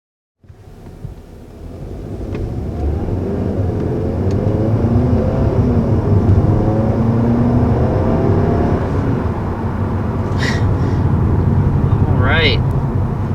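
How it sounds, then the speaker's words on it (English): A 2020 Audi A3 45 TFSI accelerating on the road, its engine note rising steadily inside the cabin over a broad rumble of road and wind noise, with speech faintly present. "So that was our first acceleration in the 2020 A3."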